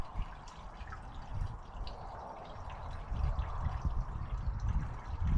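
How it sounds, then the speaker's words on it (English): Water pours from a jug into a car's cooling system during a coolant flush, a continuous gurgling trickle that grows fuller and louder toward the end, with no talk. "Then I'll fill this up with water."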